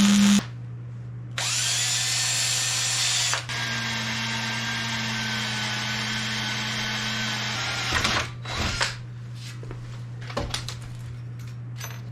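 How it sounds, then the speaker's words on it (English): A power drill whirs in several sustained bursts with brief pauses and pitch shifts, close by, ending with scattered clicks and handling noises. "I think I can guess where I need to drill that."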